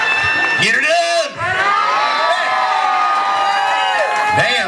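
A large crowd at a blue-collar comedy show cheers and whoops loudly and without a break, with shouts and whistles rising above a dense roar.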